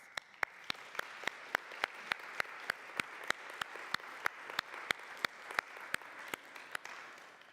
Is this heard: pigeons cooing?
no